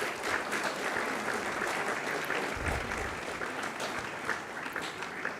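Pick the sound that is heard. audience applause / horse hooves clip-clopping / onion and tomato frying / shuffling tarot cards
audience applause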